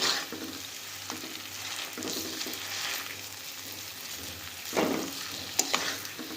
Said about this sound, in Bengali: উল্টে পাল্টে এটাকে ভাজা করে নেব।